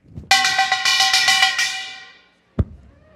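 A small Korean kkwaenggwari gong played on a festival stage: a run of bright, ringing metallic strikes in quick rhythm that decays into silence, followed by one sharp hit.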